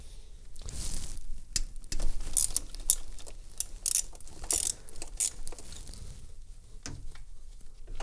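Ratchet wrench clicking while a bolt is loosened under a Jeep Cherokee XJ during fuel pressure regulator replacement, with rapid close metallic ratcheting bursts, pauses between pulls and light handling noise.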